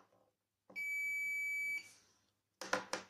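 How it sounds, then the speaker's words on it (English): A FrSky D4R-II RC receiver gives a single steady electronic beep lasting about a second, close and clear, confirming failsafe setup, followed by brief clattering and handling noises. "it was 1 beep, which means that the failsafe is successfully set"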